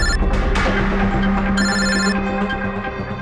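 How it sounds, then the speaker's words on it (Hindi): A telephone rings over a busy, humming background, its bright electronic tone sustained and repeating for a few seconds. "कभी भी फोन आ सकता है उन लोगों का।"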